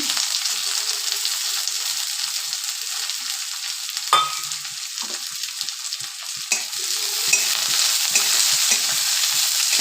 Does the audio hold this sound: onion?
yes